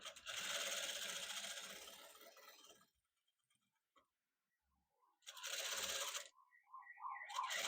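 A sewing machine running a short burst of extra stitches on an open seam section of an angrakha-style garment, a steady close mechanical whirr for about three seconds, then silence, then another brief run with soft handling noises.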